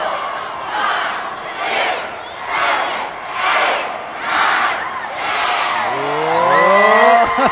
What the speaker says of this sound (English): Listen to this crowd at the Lamar Dixon Expo Center.